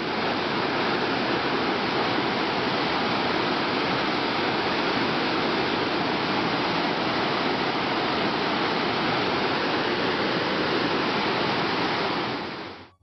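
A waterfall roars as a loud, dense, unbroken rush of falling water, close and steady throughout before cutting off abruptly at the end.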